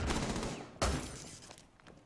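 A burst of rapid gunfire in the video game Rainbow Six Siege, with a sharp loud crack partway through, then scattered shots trailing off amid a busy, noisy backdrop.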